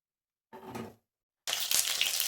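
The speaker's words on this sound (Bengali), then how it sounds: "তেলটা খুব ছেটকাচ্ছে" Ginger garlic paste hits hot oil for mutton haleem and spatters with a loud, steady, crackling sizzle that starts abruptly after a short, softer clatter and a moment of quiet.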